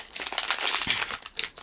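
A small plastic packet from a Stranger Things figure capsule is crinkled and rustled by hand close up, with a steady run of crackling bursts and a brief sharper tear.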